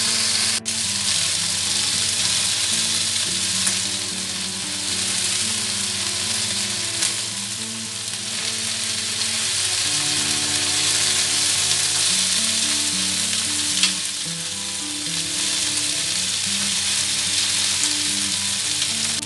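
Chicken coated in spice paste grills in a pan until charred, with a loud, continuous close sizzle and crackle that runs steadily throughout.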